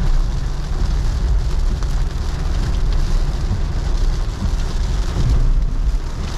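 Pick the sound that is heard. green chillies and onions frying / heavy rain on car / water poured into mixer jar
heavy rain on car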